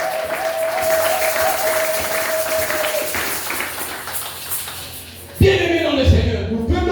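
Church congregation applauding and cheering the Lord during a Sunday service in Lubumbashi, a steady crowd clapping through most of the stretch with a tonal note early, then a louder burst of voices and sound near the end.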